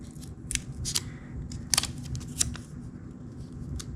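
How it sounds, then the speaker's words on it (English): Fingers handle and press an old sticker onto a vintage Cat Duster mini bike during restoration, giving soft crinkling and a few sharp peeling ticks over a low steady background hum. "This is an old sticker. Hopefully it will still halfway stick."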